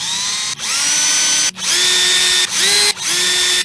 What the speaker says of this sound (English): Okay, so I have my drill here, I have my bit right here.